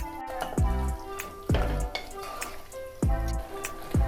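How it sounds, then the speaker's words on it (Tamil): Mutton sizzles in a pan over a high flame while being stirred, with repeated scraping strokes about every second and a steady frying hiss between them, close and fairly loud. "மட்டன் சேர்த்ததுக்கப்புறமா ஸ்டவ்வை ஹை ஃப்ளேமில் வச்சு ஒரு 3 நிமிஷத்துக்கு நல்லா கலந்து விடுங்க."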